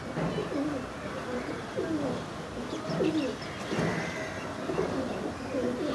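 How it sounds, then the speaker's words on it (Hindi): A male Madrasi flying pigeon coos close by in a repeated, rolling rhythm, with soft gurgling calls recurring about every second over light background noise. "दादा के घर में एक आंखों का कबूतर ये नर है"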